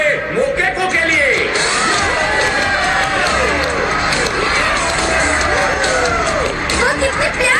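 A large crowd cheers, whoops and shouts continuously before a fight between a 7.5-foot fighter and a four-year-old girl, the roar loud and steady throughout with voices rising and falling in the babble.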